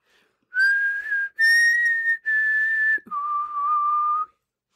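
A person whistles a short tune of four sustained, clear notes, close and fairly loud, each held about a second with brief gaps between, the last note lower in pitch than the others.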